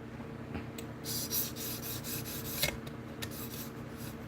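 A knife blade is drawn across the stone of a sharpening system in a series of faint, rhythmic rasping strokes, quiet and close, with no talking.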